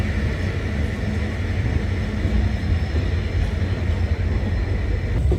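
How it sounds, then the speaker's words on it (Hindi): The Bhopal–Pratapgarh Superfast train passes on the Lucknow–Barabanki railway line with a continuous deep rumble and rolling rail noise, steady and fairly near, no voices over it. "भोपाल प्रतापगढ़ सुपरफास्ट।"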